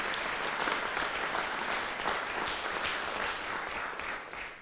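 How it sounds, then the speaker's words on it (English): Sustained audience applause at an evening storytelling event, dense and steady clapping from a full room that holds at an even level throughout and fades only slightly near the end, with no talking over it. "how about we give all of our storytellers tonight another round of applause"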